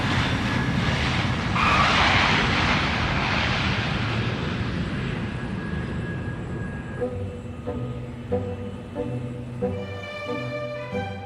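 An airliner on approach at Heathrow Airport roars past with a broad jet rumble that swells and slowly fades, followed by a quieter stretch of steady tonal hum.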